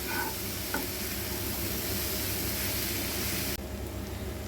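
Tomato and chopped vegetables stirred in a hot pan for a paneer roll filling, giving a steady close sizzle with a few brief scraping stirs, then a sudden drop in the hiss near the end.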